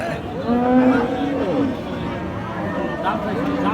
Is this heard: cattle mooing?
yes